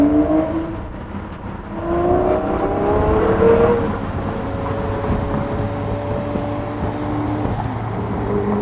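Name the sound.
sports car engine upshifting and downshifting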